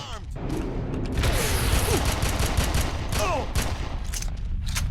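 Gunfire in the video game Red Faction, running as a continuous clatter of shots and mechanical noise with a voice speaking over it throughout.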